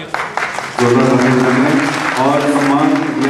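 An award ceremony crowd bursts into loud applause while a voice talks or sings prominently over it. The clapping stays dense and sustained after a sharp rise.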